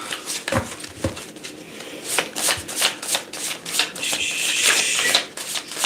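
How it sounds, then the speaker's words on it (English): Tarot cards are shuffled by hand in a steady series of close, crisp riffling and slapping bursts, papery clicks repeating irregularly for several seconds with no talking. "I'm gonna just keep shuffling them, but that's not how I shuffle these"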